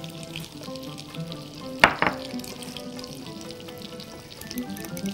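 Peppers and onions fry in butter with a little oil in a pan, a steady soft sizzle broken by a couple of sharp clanks partway through, close by with no voices.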